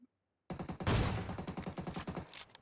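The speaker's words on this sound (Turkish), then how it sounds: "Nereden geliyor atış?" Automatic gunfire in the mobile shooter PUBG Mobile, a dense rapid burst of close, loud shots rattling on for about two seconds after a brief silence.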